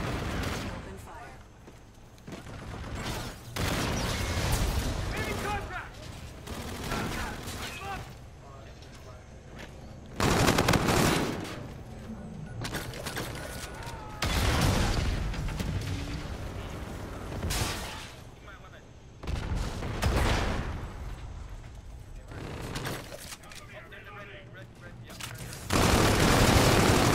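Rapid bursts of video game gunfire repeat throughout a tense multiplayer match, loud volleys broken by short pauses, with a player's voice talking over parts of the action.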